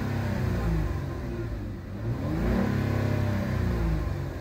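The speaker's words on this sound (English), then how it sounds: "Let's give it the revs." Close revving of a 2014 Chrysler Town & Country minivan engine with check engine light on: a smooth rise in pitch, a brief dip, then the motor climbs again and holds a steady high whir.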